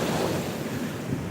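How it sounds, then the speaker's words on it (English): Big Gulf of Mexico ocean waves roar steadily as continuous broadband surf, mixed with wind buffeting the microphone, with no talking. "Oh, big waves."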